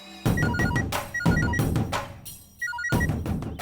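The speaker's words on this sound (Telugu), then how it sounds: "అరే ఫోన్ వచ్చిందిరా." A telephone rings in repeated electronic bursts of melodic beeps inside a home, loud and close, with brief gaps between the ring cycles.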